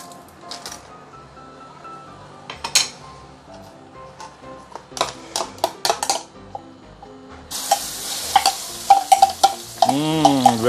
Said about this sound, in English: Put in a generous amount of oil here because we want to saute the chili paste.